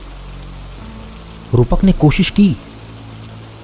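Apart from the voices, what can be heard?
heavy rain sound effect in a horror story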